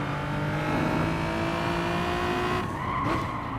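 Race car powering out of a corner in second gear in a racing game, engine note climbing steadily with a sustained harmonic whine and faint tire scrub, then a brief shift or lift near the end.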